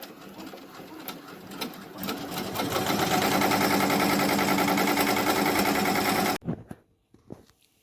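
Ricoma EM1010 embroidery machine stitching a letterman jacket, a loud steady mechanical whir with rapid needle chatter that builds and runs continuously for about six seconds, then stops abruptly, leaving faint handling noises.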